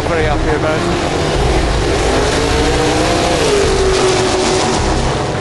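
Vauxhall Victor car engine revving loud and close at a timed run, a continuous roar whose pitch climbs steadily across the clip before levelling off, with no gaps.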